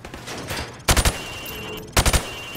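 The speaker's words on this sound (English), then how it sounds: "I want you to shoot the targets through the wood." Two short bursts of rifle fire in Call of Duty 4, each three rapid loud shots at targets behind thin plywood, separated by about a second of quiet ambient background.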